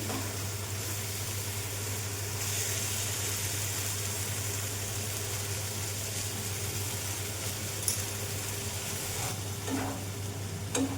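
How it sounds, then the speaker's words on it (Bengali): Soybean chunks stir-fried in a pan for Bengali soyabean kosha: continuous sizzling with spatula scrapes over a faint low hum, and no one talks. "ভালো করে এটাকে কষিয়ে নিই"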